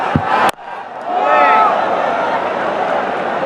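A big crowd at a Bangladesh versus Pakistan T20 cricket match in Mirpur roars in a loud, sustained swell after a sharp crack, with a broadcast voice faintly beneath.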